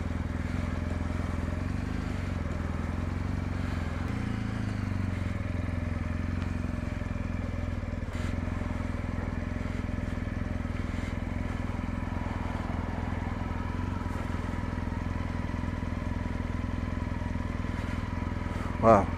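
A 2019 BMW R1250GS motorcycle being ridden, its engine a steady, moderately loud drone with faint clatter that stays fairly even throughout, heard alongside a voice talking.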